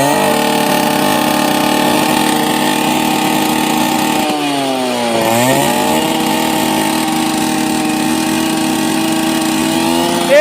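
An old Yamaha RX 100 motorcycle idling loudly up close, a steady buzzing two-stroke drone with one quick blip of the throttle midway, then back to an even idle.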